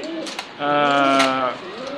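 A pigeon at a farm of fancy racer pigeons gives a loud, close, drawn-out coo lasting about a second, with softer bird sounds before and after.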